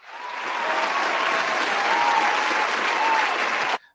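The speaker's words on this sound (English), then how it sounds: "Let me play the applause." A canned applause sound effect played during a wrestling interview show: a full crowd clapping and cheering, swelling in quickly, holding steady and loud for a few seconds, then cutting off sharply.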